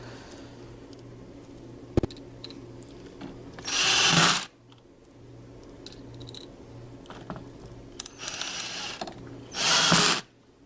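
A power screwdriver drives short screws into a Rug Doctor carpet cleaner pump kit, giving two close bursts of whirring driving with light clicks and handling noises around them.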